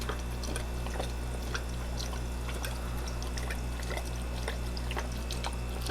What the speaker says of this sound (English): I will fill up another glass or another cup with some water.